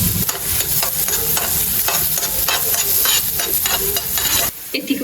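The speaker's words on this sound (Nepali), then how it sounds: "लसुनको टुक्रा हाल्दैछु।" Garlic pieces sizzle and fry in a small amount of hot oil while being stirred, a steady close crackle with scraping stir strokes throughout, briefly dropping near the end.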